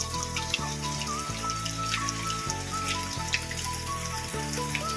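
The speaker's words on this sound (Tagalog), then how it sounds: "Umuulan pa rin." Steady morning rain at a resort in Tanay, Rizal, a constant hiss of water falling on surfaces with scattered drips, beneath a low, rhythmic hum that pulses regularly throughout.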